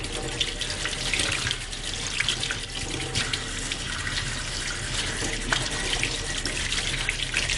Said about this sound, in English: Make sure you rinse it with cold water,